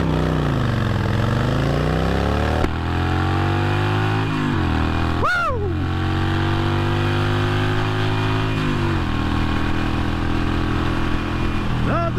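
A Harley-Davidson Sportster Bobber motorcycle riding on the road, its engine droning loudly and rising and falling as it revs through gear changes, with wind rush over the engine.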